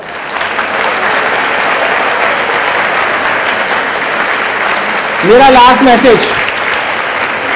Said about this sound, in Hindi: इन सब के लिए 80 बार तालियां बजाओ